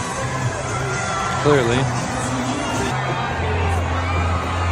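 Football crowd cheering and whooping at a stadium, a broad continuous roar with a brief louder swell, while someone talks over it.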